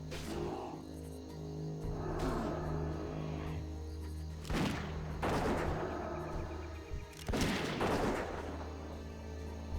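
Sharp gunshot bursts from a shooter attacking the player in World of Warcraft Classic, several loud cracks spaced a couple of seconds apart over a steady droning game background.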